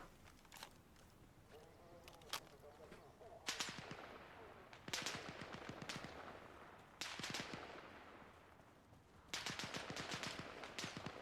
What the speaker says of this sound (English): Someone is still shooting at me.